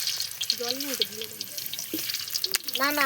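Potatoes fry in oil in a pot for biryani at an outdoor New Year picnic, a steady sizzle and hiss running throughout under brief speech.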